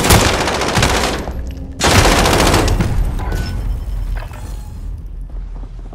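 Light machine gun fire in Warzone: two long, loud, close bursts of rapid shots separated by a brief pause, then a fading rumbling tail with no talking.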